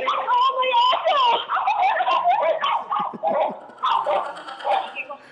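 Dogs bark and yip excitedly in quick bursts, close by, with some whining mixed in and people talking over them.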